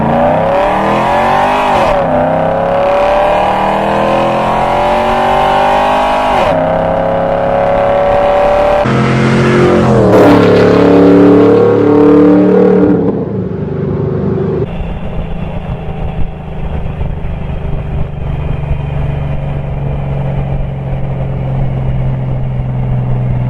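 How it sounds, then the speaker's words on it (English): A modified 2002 Camaro SS with a BTR Stage 1 cam, long tube headers and dual exhaust accelerates hard on a run, its loud engine rising through several gear pulls before settling into a steady drone as it pulls away. "this run here is after I installed the BTR Stage 1 cam, long tube headers, and the dual exhaust"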